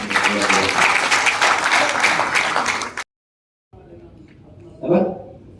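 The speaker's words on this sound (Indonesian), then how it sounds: "ya, tepuk tangan." An audience at a table manners training session claps in a dense, steady burst of applause that stops abruptly, followed by quiet room noise and a short voice.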